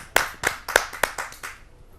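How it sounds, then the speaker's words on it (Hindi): Audience at a Hindi poetry gathering clapping to welcome a poet: a few distinct, fairly close hand claps in an uneven rhythm, about six in two seconds, fading out at the end. "आइए जोरदार तालियों से स्वागत करते हैं।"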